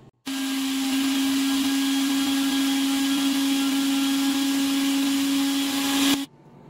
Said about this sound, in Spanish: Lo vamos a licuar por unos 3 minutos.